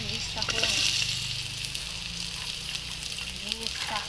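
Steady hiss of reused cooking oil sizzling in a frying pan, with a low hum underneath and occasional faint clinks.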